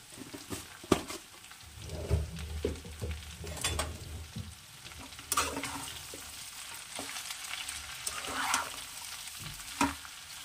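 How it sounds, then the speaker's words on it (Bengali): Bottle gourd with moong dal being stirred in a pan, with a soft sizzle under intermittent scraping and clinking of a spoon against the pan, close and quiet. "একটু নাড়াচাড়া করে আমি এটা ঢাকনা চাপা দিয়ে দেবো"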